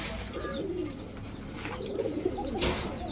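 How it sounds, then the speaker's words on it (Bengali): Giribaz high-flyer and racer pigeons coo in low, soft, rolling calls, repeating steadily at close range with a faint hum of background noise. "এই হচ্ছে কবুতর, সুন্দর সুন্দর কবুতর"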